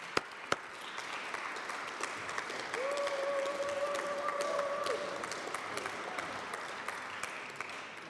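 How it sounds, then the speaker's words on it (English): Audience applause at a conference as a speaker is called to the stage, a soft, steady wash of clapping heard from a distance, with a sustained tone rising under it midway. "A big applause."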